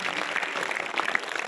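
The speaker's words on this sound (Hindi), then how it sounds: "बजाओ ताली यार," A seated audience at a spiritual talk on yoga postures and breathing practice claps together, a steady, dense patter of many hands continuing throughout at moderate volume, with no voices over it.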